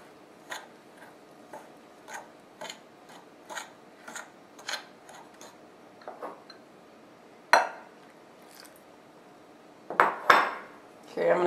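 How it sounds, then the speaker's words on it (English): A utensil taps and scrapes against a bowl at an unhurried, regular rhythm as flour is stirred into pie dough, close and fairly quiet, followed by a few louder clinks and knocks toward the end. "I'm going to keep stirring this until I get the flour all incorporated"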